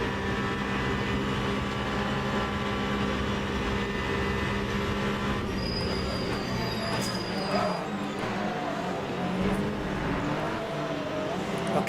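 Hypercars racing around Le Mans in the sim game Le Mans Ultimate, a steady loud engine drone with shifting whine and passing cars blending together for the whole stretch, some voice faintly mixed underneath.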